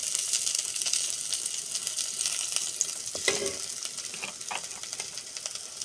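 Spices fry in hot oil in a pan for a hilsa fish dish, with a steady, bright sizzle throughout and a few soft scraping strokes of stirring.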